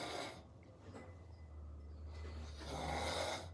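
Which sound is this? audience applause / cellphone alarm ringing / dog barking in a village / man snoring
man snoring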